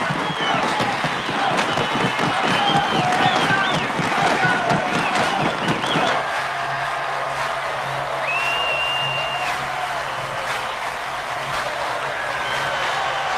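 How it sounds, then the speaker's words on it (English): A baseball crowd in Cleveland stomps and claps in a loud, rhythmic pounding for about six seconds, then settles into a lower, steady roar of voices and cheering. "They're on their feet here, stomping, clapping."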